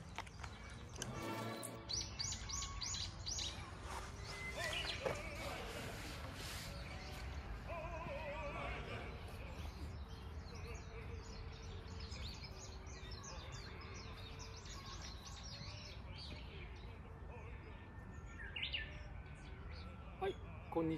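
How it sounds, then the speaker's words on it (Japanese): Japanese bush warbler song rings out outdoors, with repeated bright chirps and trills over a dense, continuous background wash, moderately loud and persistent throughout. "ああ、またかぶってる、ウグイス。"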